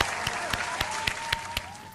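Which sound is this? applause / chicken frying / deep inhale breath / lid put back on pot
applause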